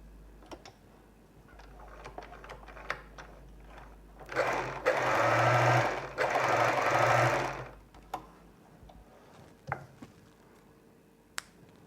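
A sewing machine stitches a fabric niqab veil in a run of about three and a half seconds with a brief pause in the middle, framed by quiet handling clicks and taps before and after.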